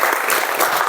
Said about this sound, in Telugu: అన్న చక్క చప్పట్లో క్లాప్స్తో ఇన్వైట్ చేయాలని కోరుకొంచున్నాం